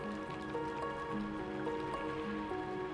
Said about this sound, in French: Le rythme de la pluie